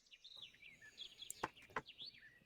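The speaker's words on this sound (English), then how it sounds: "All you hear is the birds chirping and the wind blowing slightly." Birds in a quiet small town: a few thin, high chirps and tweets scattered across a faint, hushed background, with sharp brief calls standing out near the middle.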